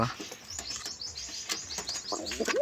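Young pigeon chicks call in thin, rising squeaky chirps, several short cheeps scattered over nearly three seconds, close by, with soft rustling between calls.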